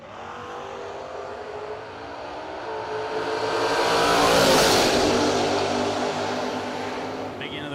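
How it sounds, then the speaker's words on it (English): At a drag strip, a blue Camaro in the left lane and a Vega launch side by side, their engines swelling into a loud roar that peaks midway and then fades away down the track. "Blue Camaro left lane, 625 dial in, taking on James Day."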